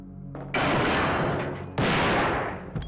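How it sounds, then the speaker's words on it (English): Two loud shotgun blasts from the Resident Evil 2 N64 version, each a sharp broadband crack with a long decaying roar, spaced about a second apart with a brief quieter shot-like thud just before the first. "with the shotgun."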